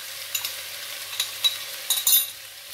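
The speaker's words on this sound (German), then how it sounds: "Einmal alles gut verrühren" Vegetables, garlic and spices for a vegan Mediterranean stew are stirred in a pot, with several light scraping and clinking strokes over a soft sizzle, close up and without talk.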